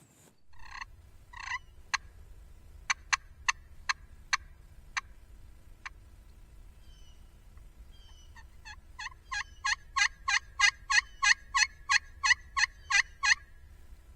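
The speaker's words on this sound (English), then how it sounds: "there's some birds gobbling in front of them" Wild turkeys gobble near a food plot in the foothills, sounding as a string of sharp, rattling bursts, first spaced out and then in a fast, loud, regular run, over a low steady rumble of wind.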